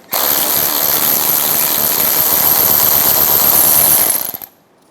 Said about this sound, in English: a 19mm socket, I'm going to spin off the nut.